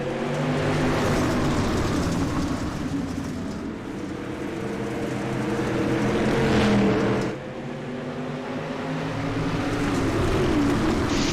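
Dirt track race cars roar together at Lucas Oil Speedway during a heat race, a loud, continuous engine drone with harmonic bands, swelling as the pack passes close around seven seconds, then settling back.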